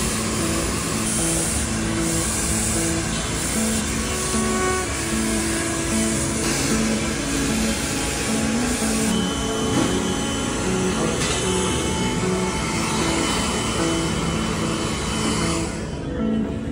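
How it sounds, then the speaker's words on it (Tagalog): Hair dryer blow-drying thick hair during a Korean-style haircut makeover, a loud continuous airy whoosh running steadily throughout with no talk. "So, i-blower muna yung kanyang hair."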